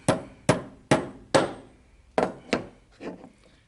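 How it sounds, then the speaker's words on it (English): A brass hammer taps a gun's front sight into place: seven sharp metallic knocks in a steady rhythm, a short pause after the fourth, the last one softer, close and clear with no talk. "we're going to tap it in place. And I have a brass hammer, and that will probably do it."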